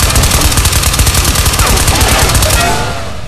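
Armor-piercing rounds hammer a boss in the VR shooter Ghosts of Tabor, near and loud in a rapid, sustained automatic burst that runs almost unbroken and trails off slightly at the end.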